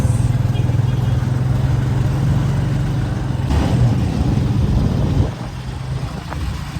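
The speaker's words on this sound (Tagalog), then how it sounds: "Itong tricycle na sinakyan namin." A motorized tricycle's engine runs with a steady low drone close by, easing slightly after about five seconds, with faint voices in the background.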